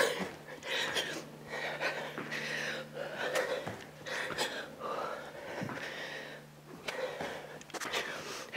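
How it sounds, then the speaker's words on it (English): Faint, close heavy breathing and puffing during a home cardio interval workout with one dumbbell, repeated rhythmic exhales and sniffs alongside quiet movement. "You can probably hear my heavy breathing."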